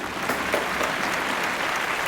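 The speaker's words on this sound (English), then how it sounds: "With a massive round of applause, please welcome Claire and Lee." Audience applause at a product launch event, a steady dense wash of clapping for about two seconds with no voices over it.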